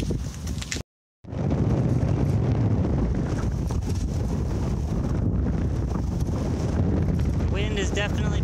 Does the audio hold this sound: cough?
no